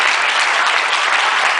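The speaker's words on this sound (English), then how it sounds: "So everyone give my parents a round of applause." Wedding reception guests applaud the best man's parents, a dense, loud wash of continuous clapping from a crowd.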